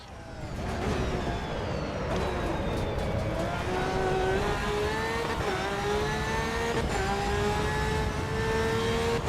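Ferrari race cars in the Assetto Corsa EVO racing game at the Nürburgring, engines droning steadily and loud with rising and falling pitch as they accelerate and shift gears, no voices.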